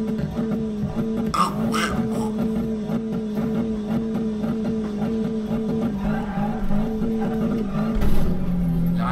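A modified turbocharged car in the Need for Speed racing game, its engine droning steadily throughout with a brief rise near the end, close and loud, with no talk over it.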